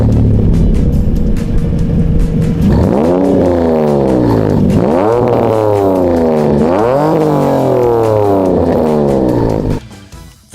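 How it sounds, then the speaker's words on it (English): BMW E46 fitted with a full aftermarket exhaust system and M3-style exit, loud and close, rising through several hard revs with falling pauses between them before cutting off near the end. "the full exhaust system with the M3 exit that sounds like this"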